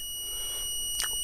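A multimeter in continuity mode gives a steady, unbroken high-pitched beep while probing a fully shorted keypad mobile phone, close and constant with a brief click near the end.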